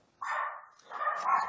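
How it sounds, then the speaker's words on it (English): A dog barks indoors in two short bursts of sound, a little way off and fairly quiet, with no talk over it. "My dog's barking."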